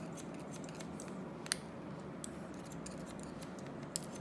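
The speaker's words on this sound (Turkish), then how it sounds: "Bak makası ne kadar rahat ve sakin sallıyorum." Barber's scissors snipping while cutting a man's hair in a classic haircut, a few sharp, isolated metallic clicks spaced seconds apart over a steady low room hum.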